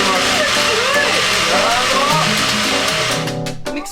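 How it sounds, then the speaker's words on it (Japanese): A roughly 300-watt kitchen blender whirs loudly and steadily for several seconds inside an all-electric converted police bus before winding down near the end. "ミキサーめっちゃ早い。"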